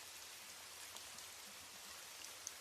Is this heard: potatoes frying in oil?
no